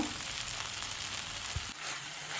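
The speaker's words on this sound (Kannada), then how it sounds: "ಹಾಗೆ ಇದನ್ನು ಫ್ರೈ ಮಾಡ್ಕೊಳ್ಬೇಕು." Okra and potato frying in a pan, a steady soft sizzle that holds throughout, with one brief low knock partway through and no voices.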